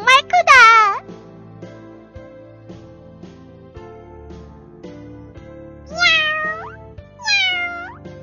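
A few high, drawn-out cat meows, loud and close, separated by pauses with some lower background sounds between them.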